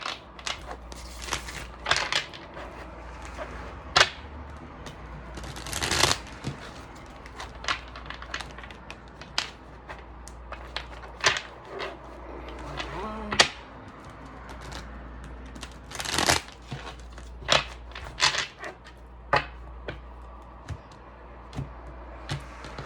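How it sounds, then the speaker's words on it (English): Stiff, hard tarot cards are shuffled close up in irregular bursts of crisp snapping, riffling and slapping, with quiet pauses between the handling sounds. "I can't even get a good shuffle because they're so hard."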